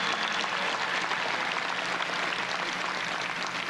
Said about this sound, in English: Please give them a round of applause for all they have done to support you to arrive at this moment in life.